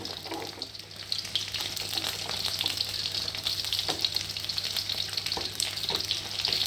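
Chicken skin frying in oil in a wok to make chicken oil, a steady, close sizzle and crackle with faint stirring clinks running throughout.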